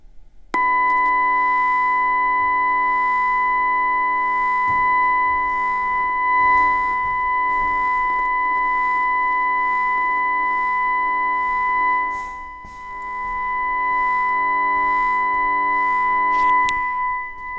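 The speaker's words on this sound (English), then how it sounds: "what you will hear is now a 1 kilohertz sine tone" A 1 kilohertz sine tone plays inside a reverberation chamber, a loud, steady, piercing whine sustained for about seventeen seconds, with faint thumps and shuffling noises in the room beneath it and no speech.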